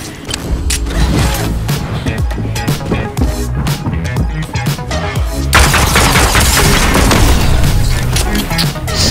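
Combat pistol firing in a shooter video game amid loud, dense battle noise, rapid cracking shots layered with mechanical clatter and booms, continuous and close throughout.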